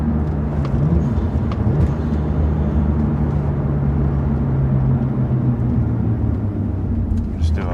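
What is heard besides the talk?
BMW 1M engine accelerating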